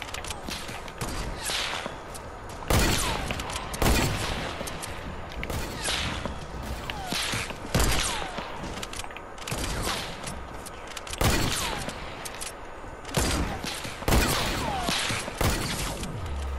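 In Fortnite, shots from the new sniper rifle ring out as sharp cracks every second or two across a steady bed of game noise. The shots are moderately loud and carry a whip-like snap.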